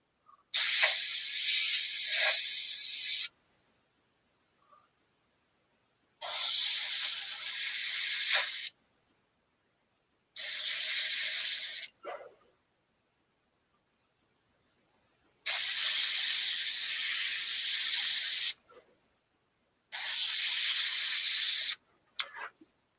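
A budget airbrush sprays paint onto a scale model in five separate hissing bursts, each lasting two to three seconds with pauses between, close and steady with no talk.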